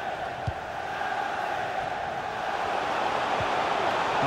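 Stadium crowd noise from a FIFA 23 football match between Manchester United and Liverpool at Old Trafford: a steady, dense roar of spectators that swells slightly, with a couple of faint low thumps and no talk.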